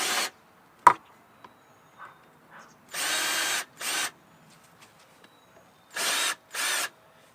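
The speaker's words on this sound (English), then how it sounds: "You can always do it with a bigger drill bit." A power drill boring holes in wood whirs in short bursts, four separate runs with pauses between, plus a sharp knock and faint handling noises in the gaps.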